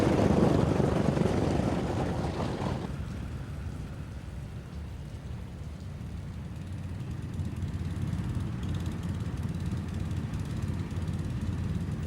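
Piston propeller engines of a Douglas DC-6 or DC-7 airliner drone loudly and steadily, with a heavy roar at the start that settles into a continuous rumbling hum with no speech.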